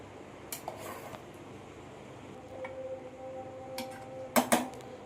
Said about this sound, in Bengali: সব ভাতগুলো আমি এই মাংসের মধ্যে এরকম ছেঁকে তুলে তুলে